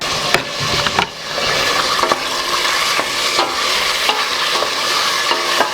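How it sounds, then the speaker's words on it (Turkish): Steady crackling sizzle of meat frying in a pot, with occasional scraping stirs and clinks, loud and close with no talking. "Eti burada yavaş yavaş kavuracağız."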